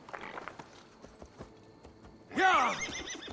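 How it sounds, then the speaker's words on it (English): A horse in Assassin's Creed Valhalla gives a few soft hoof clops, then lets out a loud, close, quavering neigh that trails off near the end. "Hold on a minute, this is my horse."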